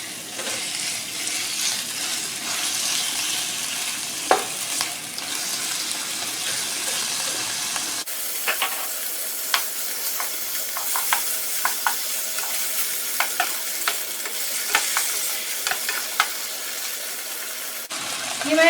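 Thin julienne-cut chicken pieces sizzle and fry steadily in a pan while being stirred, with scraping clinks of the utensil and a brief splash of water, close and continuous throughout.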